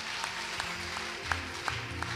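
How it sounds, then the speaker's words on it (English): A church congregation claps through a service, with sparse, uneven hand claps against a steady background murmur. "Are you not clapping for the Lord?"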